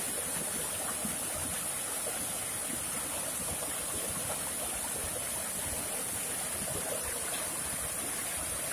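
A small river channel flows out at its mouth, giving a steady, unbroken rushing wash of water that stays even and moderately close throughout, with no voices.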